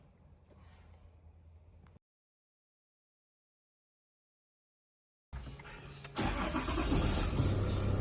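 A Toyota Land Cruiser 300 engine starts after a stretch of silence: faint low rumble at first, then a sudden crank and catch into a louder, steady idle close by.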